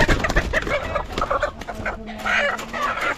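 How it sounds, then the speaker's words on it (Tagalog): Chickens clucking close by in a busy yard, several short clucks overlapping, with a low rooster-like call drawn out near the end. "Manok oh, meron na tayo manok."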